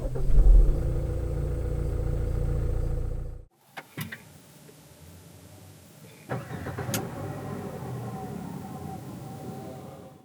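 A Renault QM6 1.7 dCi diesel engine is heard starting, a loud steady drone that cuts off abruptly, then after a pause the engine cranks and catches into a quieter, even idle.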